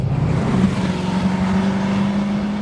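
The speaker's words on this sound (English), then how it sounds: "when you get on that pedal, the sound coming in through that firewall is just glorious" A 1957 DeSoto Adventurer's unmodified engine revs up close under acceleration, its deep, throaty drone rising slightly in pitch and holding strong and loud throughout.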